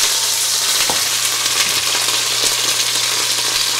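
Beef pot roast sears in a hot pan, giving a loud, steady sizzle with occasional crackles and pops, close up and with no voices.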